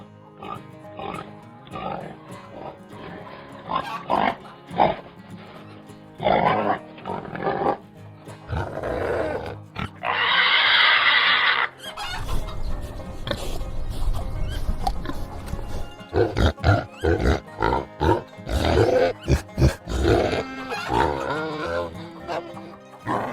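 Farm pigs grunting and squealing in a busy, varied series of calls, with a sustained loud squeal in the middle, close and prominent throughout.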